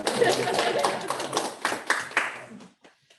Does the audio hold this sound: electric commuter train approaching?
no